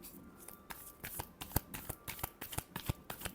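Tarot cards being shuffled by hand at close range, a run of quick crisp riffling bursts repeating in a steady uneven rhythm, with nobody speaking.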